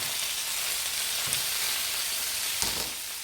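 Spinach leaves sizzling and frying in a hot pan, a steady broadband crackle throughout with a couple of brief louder stirring bursts near the start and end, close and alone without voices.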